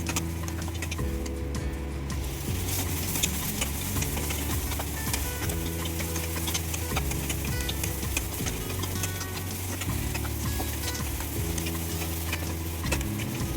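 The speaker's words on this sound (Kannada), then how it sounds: "ಬೆಂಡೆಕಾಯಿ ಫ್ರೈ ಮಾಡಿದ್ಮೇಲೆ ಅದನ್ನು ಬೇರೆ ಪಾತ್ರೆಗೆ ತೆಗೆದಿಟ್ಕೊತಾ ಇದ್ದೀನಿ" Okra frying in a pan gives a continuous even sizzle, with light rhythmic ticks and scrapes of stirring over a low steady hum throughout.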